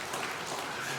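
Brief burst of a church congregation clapping to welcome a missionary during a Sunday worship service, a soft even patter of many hands filling the room.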